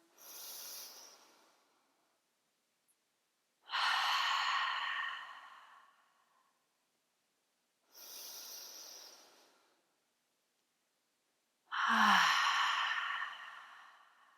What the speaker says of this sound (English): take 3 more full deep breaths in and out